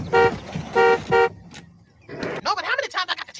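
A car horn gives three short, loud honks in quick succession, followed by a brief pause and then close voices talking.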